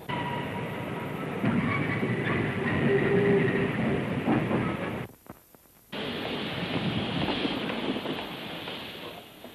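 A 1939 LMS steam locomotive, engine number 7264, rolls along the rails with a loud, steady rumble and clatter, cutting out briefly before resuming, with no talk.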